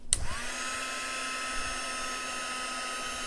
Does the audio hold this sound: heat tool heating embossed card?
yes